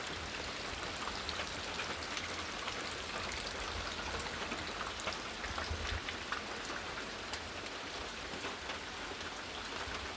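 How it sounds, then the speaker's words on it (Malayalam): Steady rain pours down close by, a dense, even hiss of drops drumming on surfaces without letting up. "ഇനിയും ശക്തിയായ മഴയാണ്"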